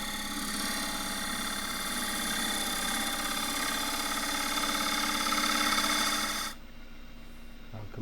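Wood lathe spinning a cracked fiddleback redgum blank while a 3/8 inch spindle gouge cuts it, a steady close hum and whir with a rough cutting texture that stops abruptly near the end, no talk.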